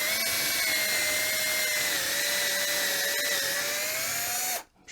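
A power drill whines loudly at a steady pitch while boring through wood on a simple homemade drill platform, running continuously before cutting off abruptly at the end.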